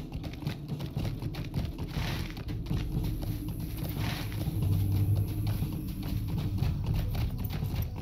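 Horse hooves galloping in the video game Lord of the Rings, a sustained rhythmic clip-clop that carries on steadily throughout, fairly loud and close, without any speech over it.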